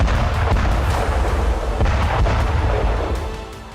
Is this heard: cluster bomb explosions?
yes